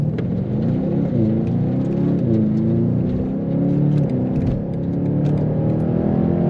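A 2021 BMW M8 Competition launches hard from a standstill on a German road, its engine roaring loudly and rising steadily in pitch through the gears, heard up close from inside the car.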